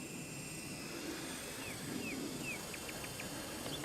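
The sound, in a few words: RC twin-rotor helicopter flying at full throttle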